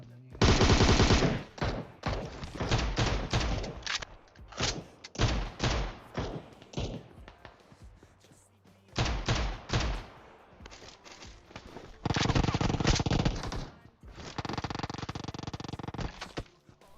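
Gunfire from a PUBG Mobile match, including shotgun blasts, crackles in rapid, loud bursts and volleys with brief lulls between, plus occasional thuds.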